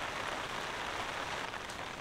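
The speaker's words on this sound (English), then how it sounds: "The rain keeps coming and going, doesn't it?" Rain falls steadily on a camping tarp, a dense, even patter that stays close and continuous with no voices.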